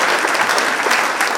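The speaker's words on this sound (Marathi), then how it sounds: "आपण टाळ्या वाजवून त्यांचं स्वागत करूया" An audience claps steadily to welcome a science teacher to the stage at an exam-preparation session, a dense, even wash of hands throughout with no voices.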